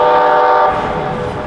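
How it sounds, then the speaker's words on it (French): A tram passes close by on a city street, a loud sustained rumbling, humming roar with tonal whine that holds steady and then eases off slightly as it goes by, with no talking. "Et ça c'était le tramway."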